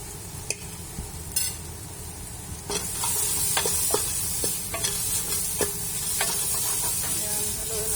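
Bukhari rice with turmeric being stirred in a hot pan, a steady frying sizzle with sharp spoon scrapes and taps against the metal at intervals, close and fairly loud.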